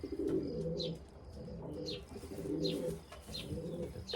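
Racing pigeons coo repeatedly while being basketed for a 70 km race, a low rolling murmur in steady waves with a few higher chirps over it, close by and fairly quiet, with no talk.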